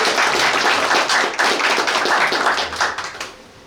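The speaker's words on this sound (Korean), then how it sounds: "이 자리에서 다 같이 박수로서" Audience clapping at a Korean government site visit to a regional public hospital, a steady crowd applause of many hands that carries for several seconds and then tapers off.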